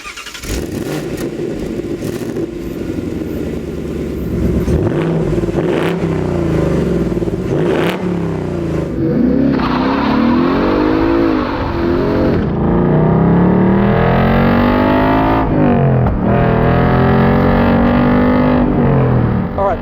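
A 2021 Ford Mustang Mach 1 driving, its engine rising through the revs in long sweeping climbs, loud and close from inside the car, with a voice talking briefly near the start.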